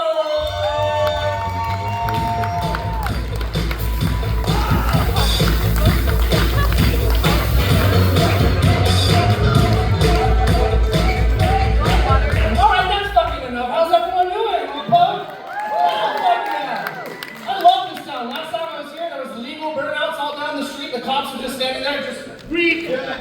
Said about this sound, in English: Let's give a warm round of applause for Bob Power!